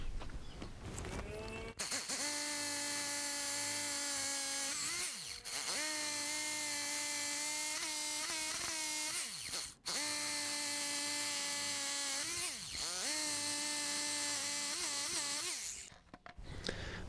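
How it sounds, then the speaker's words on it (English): Power drill boring holes into concrete for wedge anchors when fastening wood to concrete: loud, close, sustained whining bursts of drilling with brief pauses between holes, and no talking. "So I'm just going to get the drill going here, drill these holes quickly, and we'll put the bolts in."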